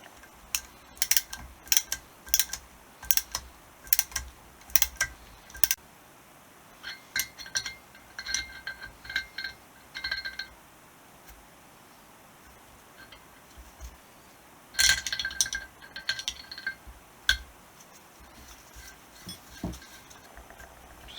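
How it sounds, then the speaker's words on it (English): Thread tap working through a VW Golf Mk2 cylinder head: quiet, sharp metallic clicks and clinks arriving in irregular bursts, with gaps between groups, close to the microphone over a low background hum. "I think we need to run a tap down this one"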